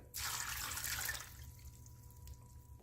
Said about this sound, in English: I gave the broth another stir, and I'm going to pour it in.